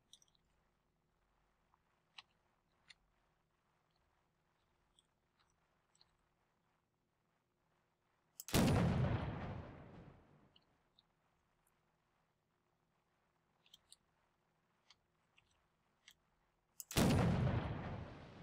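Two loud cannon shots ring out in the pirate-era game Blood & Gold: Caribbean, about eight seconds apart, each a sharp burst fading slowly, separated by near silence broken only by faint ticks.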